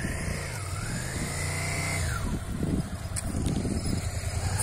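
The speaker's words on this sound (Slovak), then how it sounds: "Počúvaj si ten motor," A motorcycle engine runs close by during a riding lesson, a steady mid-pitched drone with a rising and falling rev tone and some rougher bursts toward the end, heard alone without talk.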